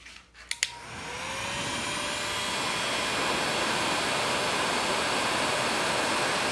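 A couple of clicks, then a heat gun spins up into a loud, steady rushing blow aimed at a Porsche 911 thermostat, holding on continuously, close to the microphone.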